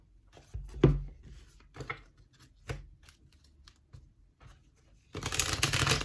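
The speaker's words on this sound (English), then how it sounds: "This deck is way too big. I can't hold it all in my hand, so I have to split it so I can shuffle the right way." An oversized tarot deck is split in halves and shuffled, starting with several soft taps and slides of cards before a loud, dense riffle bursts out near the end.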